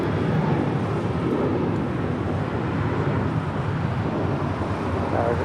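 An Emirates airliner taxis at LAX with a steady jet engine rumble and whine. The roar is continuous and moderately distant, and there is some wind buffeting with no talk.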